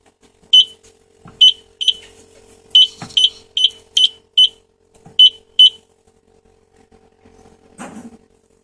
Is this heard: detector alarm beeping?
yes